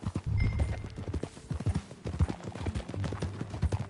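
Horse hooves clip-clop at a steady walking rhythm in Red Dead Redemption 2, close and continuous with soft low thuds under the beats.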